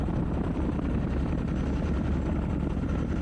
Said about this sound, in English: Get off the chopper, hit the ground.